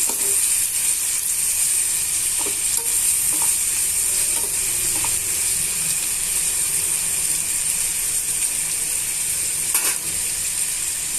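Onion pieces and green chilli slices sizzle steadily in a hot pan for an egg curry, a constant broadband frying hiss with occasional spatula scrapes and clicks, close and fairly loud, no voices.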